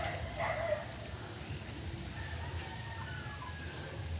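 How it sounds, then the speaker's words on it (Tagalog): A hen crows faintly in the background, a brief strained call over steady ambient noise and a constant high hum. "Tumitilaok itong babae na to eh."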